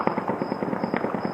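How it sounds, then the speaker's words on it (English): Celebratory gunfire rattles across Kabul after the US withdrawal: a rapid, steady stream of sharp cracks in quick succession, echoing and fairly loud, with no voices. "In Kabul, some celebrated the US withdrawal with gunfire."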